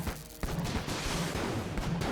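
Pulse cannon gunfire in Enter the Gungeon erupts after a quiet moment into a dense, continuous barrage of loud, rapid shots that keeps going to the end.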